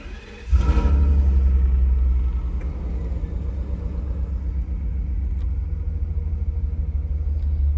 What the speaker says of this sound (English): Let's see if that light goes off when I start the car.